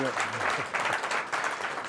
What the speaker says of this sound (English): Hey, we got a little round of applause there.